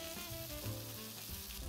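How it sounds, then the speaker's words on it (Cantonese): A chicken roll frying in oil in a flat pan, close and loud with constant crackling sizzle and a faint stir, no voices. "跟住我哋攞個平底鍋，落啲油，將個雞卷擺埋入去"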